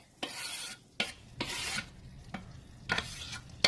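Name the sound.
chopped onions sauteing with taco meat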